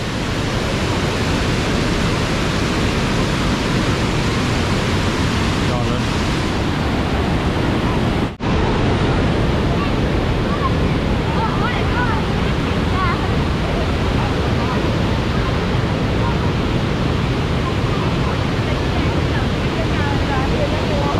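Tad Sae waterfall near Luang Prabang, Laos, roars as a dense, steady rush of falling water, loud and close, keeping on without a break apart from a brief dip midway.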